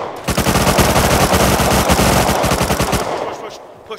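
Rapid automatic gunfire from the survival video game Rust, a loud sustained burst of closely spaced shots lasting about three seconds before cutting off, with faint background afterward.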